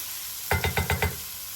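Diced tomatoes and spices are stirred in a frying pan, five quick rhythmic scrapes of a utensil against the pan over a steady sizzle, close up, with no voices.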